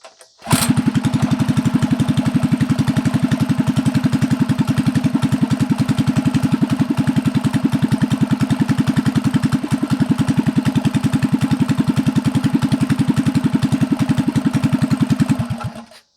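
A built Honda GX160 engine swapped into a CT100U mini bike starts cold with a short burst, then runs steadily at a loud, even idle with a rapid thumping firing rhythm throughout, no talking.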